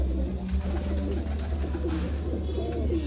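Madrasi pigeons cooing continuously, soft repeated throaty coos close by over a steady low background hum, with no talking.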